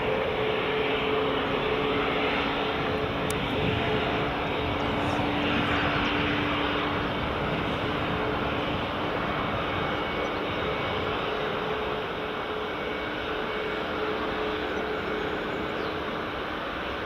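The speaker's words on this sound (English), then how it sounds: "Next up we've got the other MAX just taxiing out now." A Boeing 737 MAX jet taxis out at Edinburgh Airport, its engines giving a steady broadband roar with a faint whine, continuous and moderately distant throughout.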